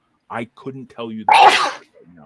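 A single loud, close sneeze bursts out right after someone speaks, breathy and abrupt, followed by quiet murmuring.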